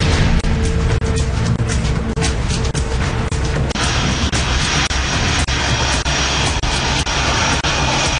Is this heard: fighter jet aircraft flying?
yes